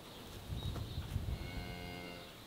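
A cow moos once in a drawn-out, mid-pitched call, close by and clear, among a small herd of cattle and young ones in a field.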